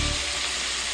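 Honey pork ribs pan-fry in oil with a steady, dense sizzle, close and continuous with no talking.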